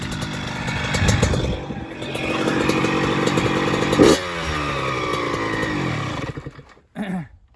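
A 2008 Yamaha YZ85 dirt bike engine runs close by with a buzzing, rattly two-stroke drone, revving up and settling, then cutting out briefly before a short final blip.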